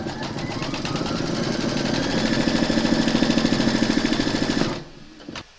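An embroidery machine stitching round seven to secure fabric to the hoop, a fast rhythmic mechanical chatter that builds and steadies, then stops abruptly, followed by a couple of faint clicks.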